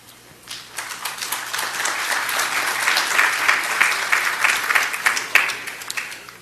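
An audience at an international community relations congress welcomes a panelist, applause swelling from a few claps into a full, loud round of many hands with crisp close claps, holding steady before starting to ease.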